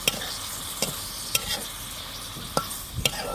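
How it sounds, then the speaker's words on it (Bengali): Drumstick, bitter gourd and potato are sautéed in spices in a pan, giving a soft, steady sizzle. A spatula clinks and scrapes against the pan every second or so. "এখন এই সবজিগুলোকে আমি মশলার মধ্যে কষিয়ে নেব"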